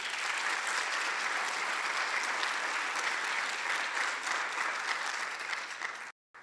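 A hall audience at Chesapeake College's State of the College address breaks into loud, dense applause that holds steady for several seconds before cutting off abruptly.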